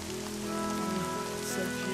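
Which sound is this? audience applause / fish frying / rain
rain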